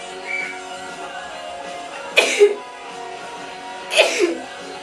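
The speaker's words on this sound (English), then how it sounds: "I'm about to sneeze" Two short, sharp sneezes burst out a couple of seconds apart over a quiet background hum.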